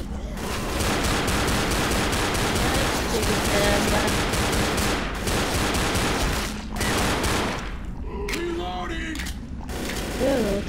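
Gunfire in Left 4 Dead, dense automatic bursts rattling almost continuously, then breaking into separate volleys near the end as voices shout over the shooting.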